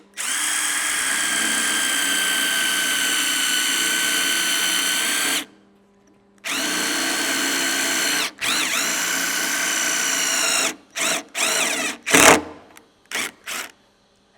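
Power drill with a 5/16 socket driving a self-drilling screw into a Jeep Wrangler tailgate, a loud steady whine for several seconds, a pause, another long run, then short stuttering bursts.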